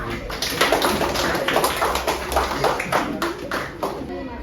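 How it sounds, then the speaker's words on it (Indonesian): Schoolchildren in a sixth-grade elementary classroom clap their hands together, a lively burst of fairly close claps in quick rhythm with voices mixed in. "Tepuk tangan untuk kita semua."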